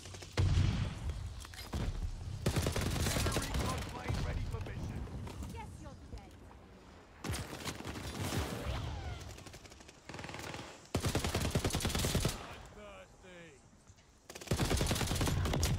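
Type 11 LMG light machine gun firing in Call of Duty: Vanguard multiplayer, loud sustained automatic bursts separated by short pauses, with someone talking over the gunfire between bursts.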